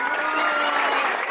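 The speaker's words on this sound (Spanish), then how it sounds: "Un aplauso, por favor." Studio audience applause for a television program, a dense continuous wash of clapping with crowd murmur and light cheering, brief and steady.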